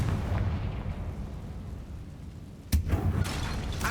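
A fiery Confringo spell explosion in Hogwarts Legacy, a deep rumbling blast that swells from a steady low roar, then a sharp crack followed by further bursts, with no talking.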